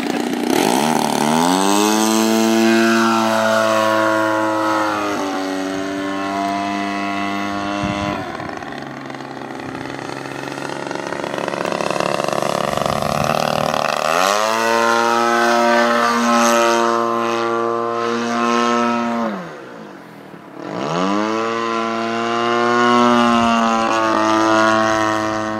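A 50cc model biplane engine during landing practice on a 75 m runway, loud and close, its buzzing whine rising and falling as the throttle opens and closes in repeated passes.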